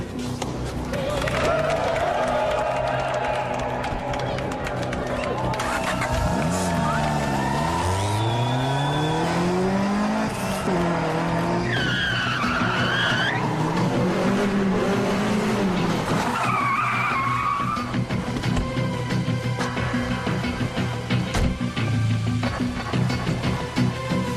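A race car tears around a warm-up lap, engine revving up and down through loud sweeping pitch rises with bursts of skidding tire squeal, close and continuous throughout.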